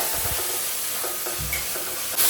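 Shallots and garlic sautéing in a hot pan give off a steady, close sizzle, with stirring scrapes and clatter running through it and no voices.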